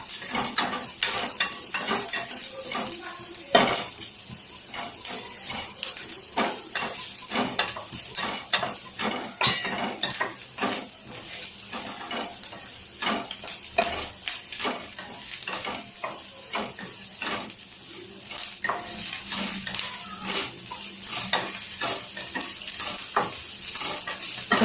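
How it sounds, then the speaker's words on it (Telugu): Onions sizzle in hot oil in a pan for an egg masala gravy, a continuous close frying hiss broken by frequent scraping stirs of a spoon throughout. "కొన్ని ఉల్లిపాయలు గ్రేవీ కోసం వేసి వేయించుకోవాలి"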